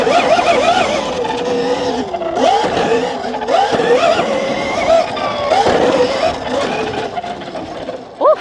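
A Dust Moto electric dirt bike climbs a hill, its motor whining loudly and continuously with rising and falling pitch as the rider pushes uphill, close to the microphone.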